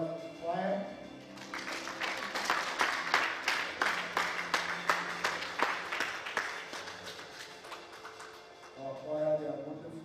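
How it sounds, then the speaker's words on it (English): A church congregation at a Sunday service claps in steady rhythm for the choir. Loud repeated claps carry on for several seconds, and voices talk at the start and again at the end. "Let's clap our hands together for the choir."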